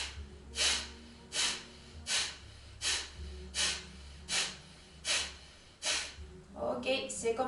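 Kapalabhati yoga breathing: a steady series of about eight sharp, forceful nasal exhalations spaced under a second apart, close and clear, followed by a brief voice at the end.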